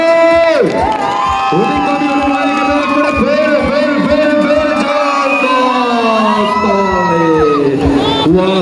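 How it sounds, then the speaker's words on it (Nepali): A live concert crowd at a festival in Nepal cheers and shouts loudly throughout, with whoops and applause over sustained music and voices. "कृपया जोरदार ताली।"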